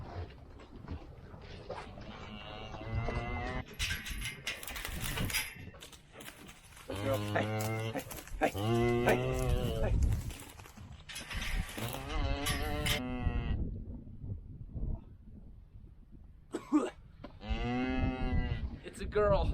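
Cattle on a South Dakota ranch low repeatedly, loud and close, in long drawn-out moos spread through the stretch, with a few shorter calls between them.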